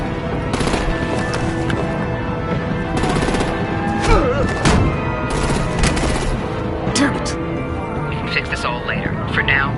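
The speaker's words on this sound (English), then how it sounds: "Break out the artillery and disable their vehicles!" Artillery and automatic gunfire in a Batman video game erupt in loud, sustained bursts of rapid shots and booms, with voices shouting over the battle throughout.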